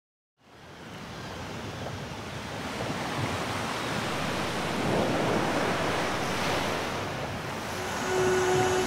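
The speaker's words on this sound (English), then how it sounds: "My waves have been washing these coasts from the beginning of time." Sea waves wash against the coast at Tarragona, a broad, steady hiss of surf rising from silence and swelling gradually louder, with a faint tone near the end.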